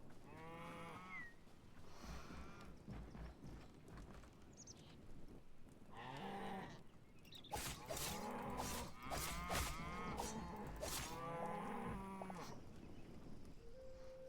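Cows in the video game Hytale moo several times in a row, loud, close and drawn out, with some calls overlapping into a busy, continuous stretch of farm-animal calls.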